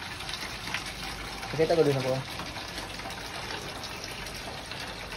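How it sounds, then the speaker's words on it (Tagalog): Water gushes steadily from an opened tap, a continuous rushing flow that runs throughout while a voice speaks briefly over it. "Pwede ko i-open yung water?"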